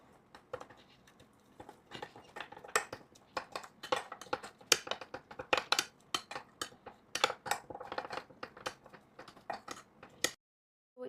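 A spoon clinks and scrapes quickly against a mug while mixing chocolate mug cake batter, making irregular bursts of close clicking taps that stop abruptly near the end.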